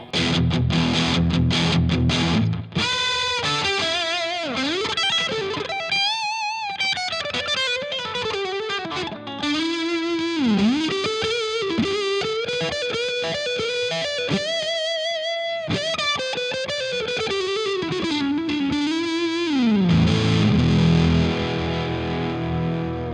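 Heavily distorted electric guitar through an overdrive pedal, a Fulltone OCD or Joyo Ultimate Drive, playing a sustained, gritty melodic line with bends and slides, loud and continuous, with no talking.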